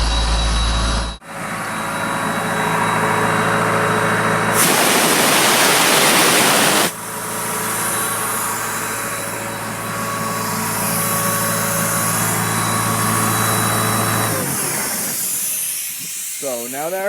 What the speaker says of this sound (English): You want to go to your compressor and shut your air off, then you can shut the machine down.